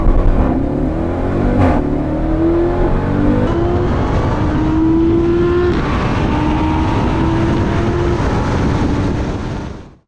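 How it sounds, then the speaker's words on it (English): A stock Jeep Trackhawk and an Audi R8 V10 Plus in a drag race, a loud sustained engine roar with rising gear-by-gear pitch sweeps and shift breaks, fading away sharply at the end, no talking. "we just got back from racing the stock Trackhawk versus the Audi R8 V10 Plus"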